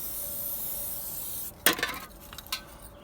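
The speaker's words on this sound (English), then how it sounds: "I like giving it a spray down." Brake cleaner sprayed onto a front brake rotor of a 2001-2007 Dodge Caravan: a steady aerosol hiss, then a louder burst of spraying with a few short hissing spurts close by.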